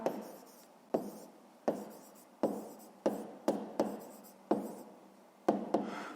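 Pen or pencil writing on paper while working a fifth-grade math exercise on a triangle's perimeter; nine or so quick scratchy strokes, each starting with a sharp tap then trailing off, close and fairly quiet, with no talking.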